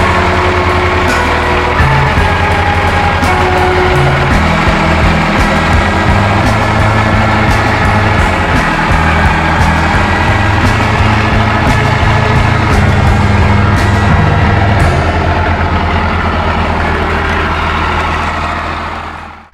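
A Cummins diesel truck engine idles loud and steady through a free-flowing exhaust, its deep rumble constant and close for nearly twenty seconds before cutting off at the end.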